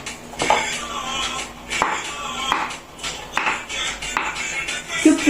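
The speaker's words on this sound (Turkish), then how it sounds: "Şimdi patatesi de doğrayacağım." Knife taps against a cutting board in a quick irregular series, dicing boiled potato, moderately close, with kitchen clatter and a faint steady hum behind.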